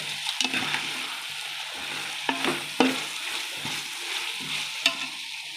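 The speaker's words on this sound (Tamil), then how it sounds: "வெங்காயம் தக்காளி போட்டு நல்லா வதங்கிடுச்சுது." Onions and tomatoes sauté in a pan, a close steady sizzle with repeated scraping and clinking stirs of a spoon, no voices.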